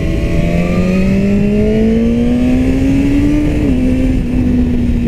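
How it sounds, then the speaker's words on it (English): A BMW S1000RR superbike engine revs steadily while the rider sits on it, the tone climbing gradually and holding a loud, continuous buzzing drone with a slight dip near the end, close and unbroken throughout. "when we were sitting on it revving the engine"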